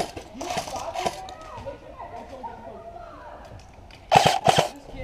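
Airsoft guns firing during an outdoor game, with a pair of sharp snapping shots near the end and fainter pops earlier, under shouted talk between players.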